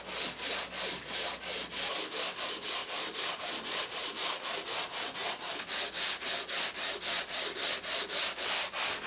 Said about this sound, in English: The braces were radiused using a piece of sandpaper adhered to the radius dish.